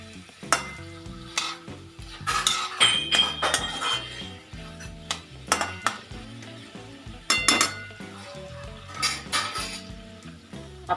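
A spoon stirs carrot relish in a metal pan, scraping and clinking in irregular bursts over a faint sizzle, close and clear with no voices.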